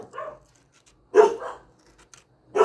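A dog barks in three short, separated bursts, loud and fairly close, with quiet pauses between, reacting to someone teasing it from behind a house.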